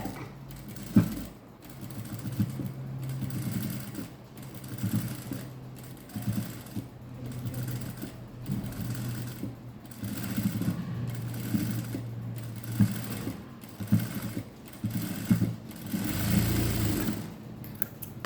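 A sewing machine stitches a boat-neck blouse with a back button and patli design, its motor whirring steadily up close in long continuous runs with brief slowdowns and stops, no voices over it.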